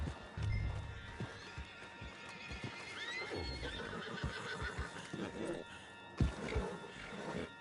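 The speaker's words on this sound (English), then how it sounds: "Put Strauss on the back of John's horse" Horse hooves clip-clopping at a steady gallop in the Red Dead Redemption 2 video game, with a horse neighing and whinnying. Rumbling game ambience runs underneath, with a sharp thump near the end.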